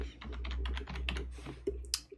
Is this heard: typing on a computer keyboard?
yes